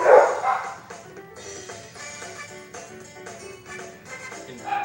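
Household dogs react to a Pac-Man Versus game song, with a whimpering, yipping burst at the start over the tune, followed by fainter intermittent dog sounds beneath continuous game music.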